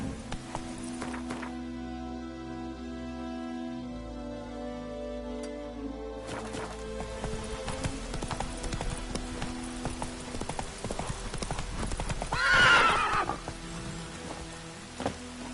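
The horse Roach trots on in The Witcher 3, with steady clip-clop hoofbeats, rain pattering around, and a brief louder neigh-like burst near the end over a soft game music bed.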